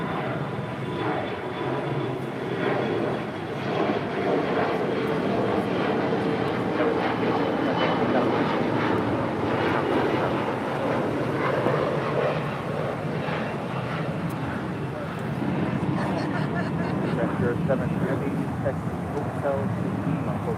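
American Airlines jet taking off from runway 25 right at LAX, a broad steady engine roar held loud throughout, with radio voices talking over it.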